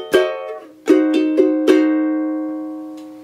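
A vintage ukulele strummed in a triplet rhythm: five bright strums in a short burst, the last left ringing and slowly fading, with no voices.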